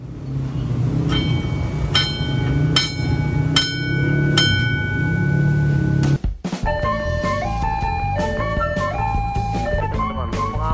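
A train rumbles past steadily at a level crossing in Serang, Banten, while a crossing bell rings repeatedly, followed by a sustained horn-like warning tone over the continuing rumble.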